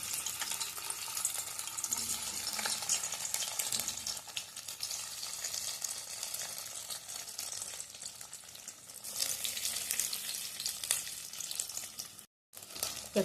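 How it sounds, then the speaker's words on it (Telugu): Pieces of boiled egg fry in hot oil, a continuous bright crackling sizzle with occasional stirring, steady and close, swelling slightly before a brief cut near the end. "ఇప్పుడు ఎగ్ ముక్కల్ని ఆయిల్లో వేయించేసుకుందాము"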